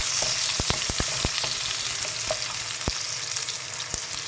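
Chopped onion with browned ginger sizzling steadily in a hot pan for a Chapli kabab shawarma filling, with sharp spoon or spatula taps scattered through the continuous frying hiss; no voices.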